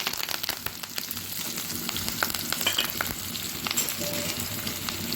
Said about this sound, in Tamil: சேர்த்துட்டு நம்ம நல்லா கலந்துக்கிட்டு வதக்கி விட்டுக்கலாம்